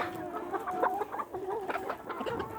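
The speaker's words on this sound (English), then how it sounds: "Over there is our old set of hens." A flock of laying hens in a poultry pen clucks continuously, with overlapping murmuring calls and occasional sharper squawks, steady and moderately close.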